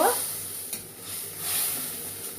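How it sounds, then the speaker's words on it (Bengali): Turmeric and chili paste, soaked in water, is fried and stirred in hot oil for a tilapia curry, with a steady soft sizzle and faint scraping strokes close by, no voices. "মশলার মধ্যে আমি এইটাও দিয়ে দিলাম এটা হচ্ছে হলুদ আর লঙ্কা অনেকক্ষণ ধরে আমি ভিজিয়ে রেখেছিলাম জলের মধ্যে একটু এটা দিয়ে এবারে কষা করব"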